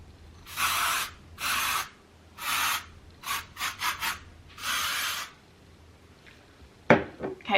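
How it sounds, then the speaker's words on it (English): Several short hissing aerosol sprays, a few long bursts and some quick puffs in between, close by with quiet pauses between them. "I'm gonna spray a bit of hairspray."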